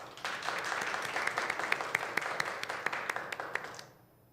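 An audience at a church youth service claps after a testimony, a warm burst of many hands with scattered sharper claps standing out, fading away over the last half second.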